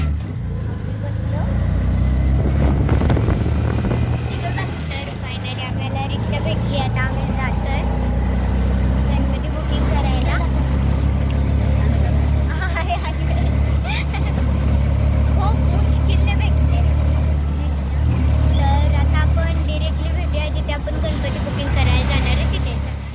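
An auto rickshaw ride through a street, with a continuous rumbling engine drone and road noise throughout, overlaid with people talking from inside the vehicle.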